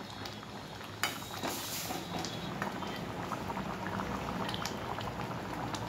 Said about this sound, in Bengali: আর একটু ফুটে যাক।